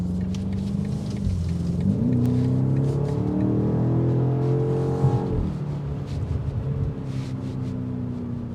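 A 2026 BMW X5M Competition engine pulls hard under acceleration, its low growl climbing in pitch and shifting through gears, then easing off to a steady cruising rumble, heard from inside the cabin with no talking.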